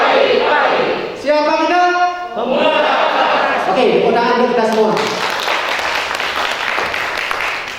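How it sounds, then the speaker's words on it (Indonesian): A youth assembly in Karangasem, Bali, breaks into applause after a chanting voice leads the crowd, the clapping swelling into a loud, dense, sustained patter in the final seconds. "tepuk tangan untuk kita semua."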